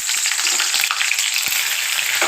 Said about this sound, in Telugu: ఇప్పుడు క్యాలీఫ్లవర్ వేయించుకున్న ఆయిల్లో పచ్చిమిర్చి,